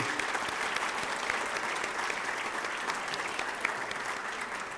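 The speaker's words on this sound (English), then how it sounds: "let's give the round of applause for the Galaxy" A crowd at the 2022 Rosie Awards, a Wadsworth Chamber of Commerce evening event, applauds a performing group, a dense, even wash of clapping heard from some distance, steady and moderately loud.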